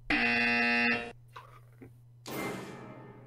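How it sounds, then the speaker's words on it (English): A loud, harsh electronic buzz of about a second sounds for a trivia quiz game show, followed by quieter background noises and a burst of broadband noise, with a low steady hum underneath. "The results of the buzzer are in, and Team Clueless got the first buzz."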